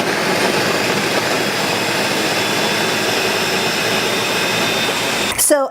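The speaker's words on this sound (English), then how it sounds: "That's just the shell of the nut being blended" A blender whirs steadily at high speed, grinding almonds and water into almond milk, a loud close roar with a dense grinding texture that holds nearly unchanged before a brief clatter at the end.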